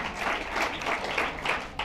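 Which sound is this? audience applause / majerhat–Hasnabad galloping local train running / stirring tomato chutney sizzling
audience applause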